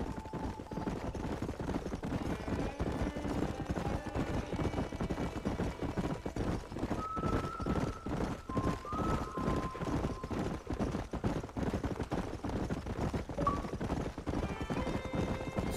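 Galloping horse hooves while riding in a video game, a dense, steady clip-clop rhythm that continues throughout, with occasional whinnies and faint tonal cues layered over it.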